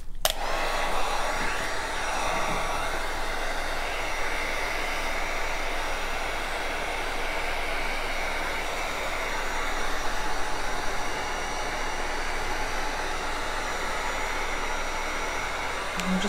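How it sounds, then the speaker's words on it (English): A Wagner heat gun blows steadily over a resin art tray, a constant close airy whoosh with a faint whine that continues unbroken throughout, with no talking. "So it just has a heat gun"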